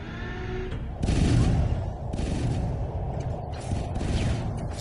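Spaceship weapons fire in the Homeworld video game, a few dense crackling bursts roughly a second apart over a low rumbling background.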